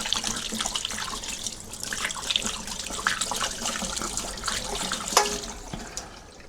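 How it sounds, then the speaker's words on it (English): Running water from a kitchen tap splashes steadily over hands being washed, a continuous close hiss with small splashy bursts and no talking. "I've got to wash my hands now because I can't turn the camera off"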